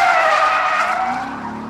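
Tires of a Lexus sports sedan squeal loudly in a long continuous skid on a race track with traction control switched off, the screech fading slightly toward the end.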